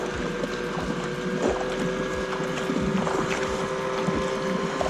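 A motorboat runs along a river between the Ticino and the Po, its engine drone steady and close with wind buffeting the microphone, heard from a kayak with no one talking.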